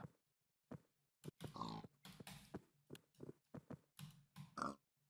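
A pig in a Minecraft-style PvP video game grunts repeatedly in short, bursty oinks, loud and close, with gaps of silence between the bursts.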